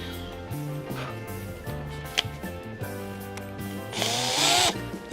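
A power drill with a thin bit whirs steadily with a low motor hum on a scale model build, then revs up into a higher, brighter grinding whine near the end.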